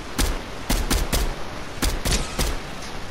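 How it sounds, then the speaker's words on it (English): Gunfire in a video game comes in sharp, loud bursts: three quick shots, a pause, then another cluster of three or four close cracks. "Oh, I'm getting shot."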